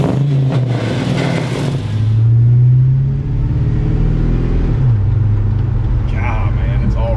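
An LS V8 truck engine idles smoothly on all eight cylinders with a steady low rumble and one brief rev swell near the middle, while people talk nearby.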